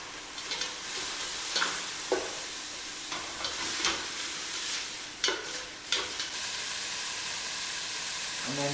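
Beef sizzles and fries in oil in a pan for a beef pot pie, a steady crackling hiss with scattered louder pops and stirring clicks throughout, close and continuous with no talking.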